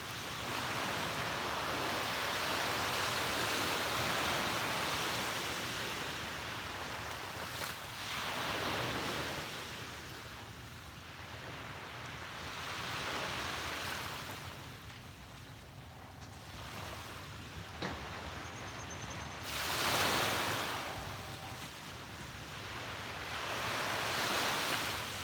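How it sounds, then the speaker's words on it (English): Ocean surf on a beach at sunrise rolls in as repeated broad washes of waves, swelling and fading every few seconds with steady wind noise beneath and no voices. "the sounds of the waves"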